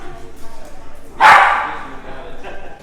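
A single dog lets out one loud, sharp bark up close, set among soft background sounds on a film set.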